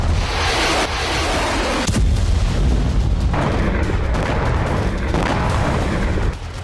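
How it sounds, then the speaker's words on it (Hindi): Artillery shelling on a Donetsk battlefield, a dense, loud barrage of heavy booms and blasts rolling almost continuously with a few sharper impacts standing out. "डोनेट्स्क के वॉर ग्राउंड में भीषण बारूद बरस रहा है।"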